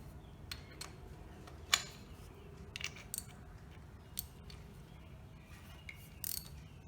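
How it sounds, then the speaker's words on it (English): Drain bolt being threaded back in and snugged down on an Exmark Lazer Z mower, giving sparse, faint metallic clicks and ratcheting ticks over a steady low hum, close by. "you can go ahead and reinstall the drain bolt."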